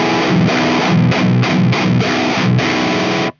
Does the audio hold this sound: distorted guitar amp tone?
yes